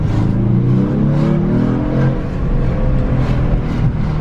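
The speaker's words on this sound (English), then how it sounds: "We get a nice turbo spool." A Genesis car's turbocharged engine revs steadily under acceleration, a continuous loud drone with rising harmonic tones and a faint whistling spool, with no voices.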